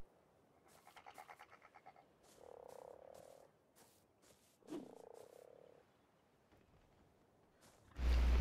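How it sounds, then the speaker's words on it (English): Bullfrog in the game ARK: Survival Evolved giving a few deep, gulping croaks spaced apart, fairly quiet, ending with a sudden loud burst of noise. "one dude that I don't know if he was in when you were around is the bullfrog."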